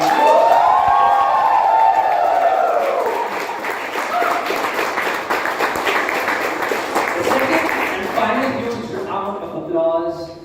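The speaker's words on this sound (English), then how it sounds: "one big huge round of applause for the event chair and all the people who ran this event so perfectly" A Toastmasters club meeting crowd claps loudly for the event chair and organizers, with cheering and shouted voices over the applause, which thins toward the end as talk resumes.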